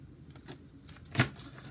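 A deck of cards is shuffled by hand, with a soft rustling riffle and a sharper snap near the end, close and fairly quiet with no talking.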